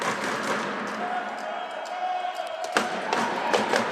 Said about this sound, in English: Pretty lively crowd in here.